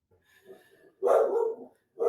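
A dog barks close by: a few soft yips first, then one loud sustained bark, and a second bark starts at the very end, with no talking.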